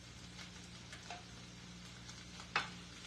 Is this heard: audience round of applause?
no